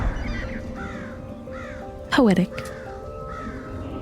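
Crows caw in a video game, a sharp burst of a couple of loud caws in the middle of the passage, while a person speaks briefly over a steady background score.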